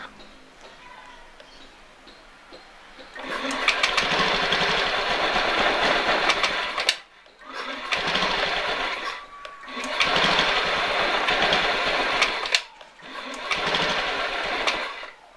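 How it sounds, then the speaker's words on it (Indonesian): A small engine cranked on the starter and then running, three loud sustained bursts of buzzing engine noise separated by short pauses, close up with no talking. "terus kita hidupkan sambil di starter."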